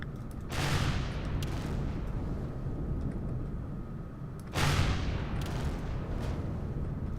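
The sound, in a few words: cannon fire explosions in Empyrion video game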